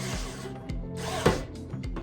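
Power drill driving a screw into wood without a pilot hole while building a recycled desktop table, heard in a few short close bursts of motor whine with brief pauses between them.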